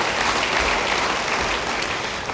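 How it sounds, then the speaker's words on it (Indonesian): Congregation applauding during a church sermon, dense clapping from many hands filling the room at moderate loudness, sustained throughout without speech. "Beri tepuk tangan bagi dia."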